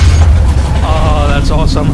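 Batman's vehicle mechanically transforms into the Batmobile in a Batman video game, a short burst of clanking, whirring mechanism noises with a low boom underneath, close and loud.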